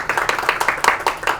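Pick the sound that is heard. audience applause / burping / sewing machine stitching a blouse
audience applause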